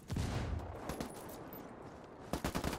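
Bursts of automatic gunfire from a Ghost Recon Ghost War match crackle in rapid clusters, with a dense volley at the start and another flurry near the end, fairly close and loud.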